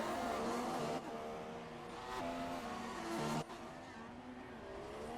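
Formula 1 race cars, a Sauber and Renaults, in a racing video game: a steady, loud high-pitched engine whine with shifting pitch as the cars accelerate and change gear, continuous throughout.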